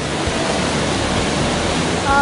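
Steady, dense rush of falling water at Nivali waterfall in the Konkan, with rain coming down on top, a continuous broadband roar heard close and loud throughout.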